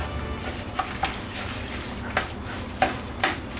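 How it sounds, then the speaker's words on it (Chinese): Sliced king oyster mushrooms dressed with sauce, cilantro and scallion are stirred in a small bowl, giving several close, wet clinks and scrapes at irregular intervals over a faint background hiss. "一起搅拌均匀，美味即成。"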